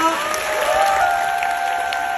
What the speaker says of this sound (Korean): 우리 폴보블 코시에게 박수 부탁드립니다